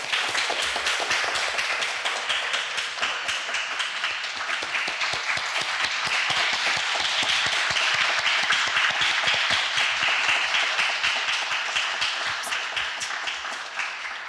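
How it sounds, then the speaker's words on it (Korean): A large audience applauds at a formal archive agreement signing ceremony during a commemorative photo, a sustained, dense burst of clapping that holds steady and tapers off slightly at the end. "여러분 큰 박수 부탁드리겠습니다."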